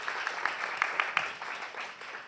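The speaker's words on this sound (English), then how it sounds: "Let's give them one more big round of applause." Brief applause from an audience thanking a panel at a procurement event, a steady wash of many claps with a few louder individual claps standing out, heard alone without talk.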